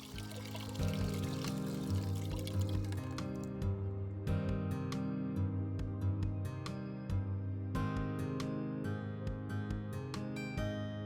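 Collected rainwater is poured from a container in a Canadian vegetable garden, a continuous gurgling stream running close and fairly loud for several seconds with uneven splashy pulses.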